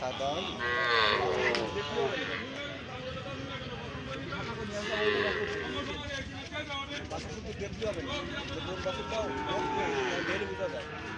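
Cattle low repeatedly at a busy cattle market, several moos rising over a steady crowd din with people talking throughout.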